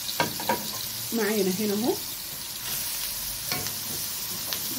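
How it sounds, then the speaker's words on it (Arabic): Onion sautéing in ghee over a little oil in a pan, a steady broadband sizzle throughout, with a brief spoken phrase partway through and light stirring clicks. "حطينا حتة سمنة على شوية زيت، وأدي البصلة بتاعتي، البصلة تتشوح كده"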